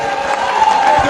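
Audience at a political meeting in Côte d'Ivoire, held for displaced residents of Adjamé Village, applauds in a steady, dense wash of clapping and crowd noise that stays loud and close for the whole moment.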